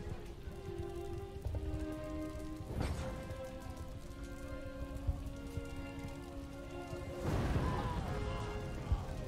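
Steady rain hiss from a battle scene in the video game Empire: Total War, a continuous wash running under game music and sound effects, with a couple of louder swells and splashy bursts along the way.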